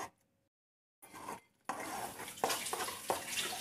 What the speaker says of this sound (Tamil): உப்பு சேர்த்து நல்லா அதை மிக்ஸ் பண்ணி விடுங்க.